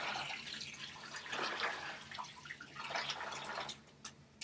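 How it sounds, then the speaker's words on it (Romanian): Hot water poured into a baby bath lined with a cotton towel, a faint, soft splashing trickle rising and falling over a few seconds, heard alone and fairly distant. "Punem apă fierbinte."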